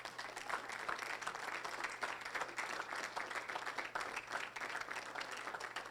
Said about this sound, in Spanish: Si yo fuera usted, aplaudiera fuerte.